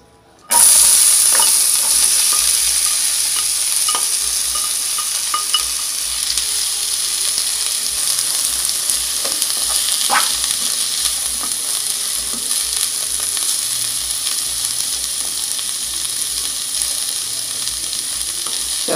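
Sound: onion frying in olive oil, being stirred

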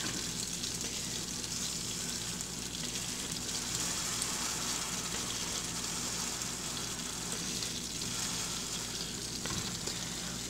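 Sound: hamburger steak sizzling in a pan of grease

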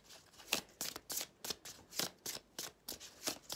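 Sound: tarot cards being shuffled and drawn

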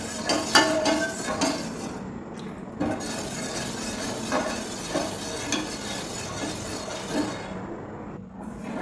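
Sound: stirring rice-flour batter in a pan over low flame

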